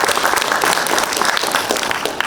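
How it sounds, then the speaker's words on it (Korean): Warm, dense applause from the audience at a Korean council policy forum on support for small businesses, steady and fairly loud for the whole stretch, many hands clapping together without pause. "좋은 발제해 주신 윤경준 교수님께 다시 한번 큰 박수 드리겠습니다"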